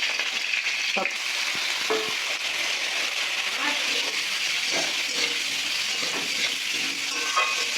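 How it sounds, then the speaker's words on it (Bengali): Lentil dumplings (bori) fry in oil in a pan with a dense, steady close-up sizzle and crackle, plus a few brief clinks and scrapes of stirring. "ডালের বড়িটা এই যে লাল লাল করে ভেজে নিচ্ছি।"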